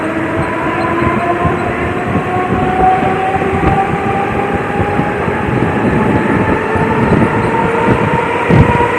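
A Navi Mumbai local train runs on the CBD Belapur to Uran line, giving a steady, loud rolling rumble with a sustained tonal hum and a small clatter near the end, with no voices.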